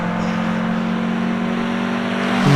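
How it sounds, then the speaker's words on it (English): A Datsun 1600 race car climbs a hillclimb course with a steady, droning engine note held at constant revs, then swells louder as it accelerates in the final moment. "Peter Rogers, Datsun 1600."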